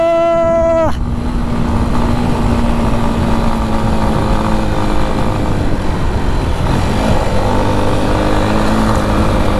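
A motorcycle rides an unpaved dirt road in the Sinja valley of Jumla, its engine droning loud and steady with continuous road and wind roar throughout.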